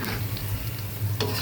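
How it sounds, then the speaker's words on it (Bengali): Spinach pakoras sizzle steadily in hot oil, a close, dense frying hiss with low bubbling, and a brief scrape of a utensil near the end. "এই তো আমার পালং পাকোড়াগুলো এক পাশে সুন্দর ভাজা হয়ে গিয়েছে, আরেক পাশটা আমি এখন উল্টে দিয়ে ভেজে নেব"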